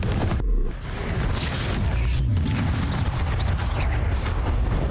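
Confringo fire-blast spell in a Harry Potter video game, a loud booming burst followed by a sustained rumbling, crackling roar of explosive debris.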